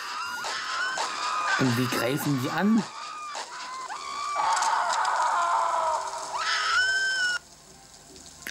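Jellyfish-like creatures in the horror game Dementium Remastered let out shrill, wavering screeches and warbling cries, loud and close, with someone speaking over part of it.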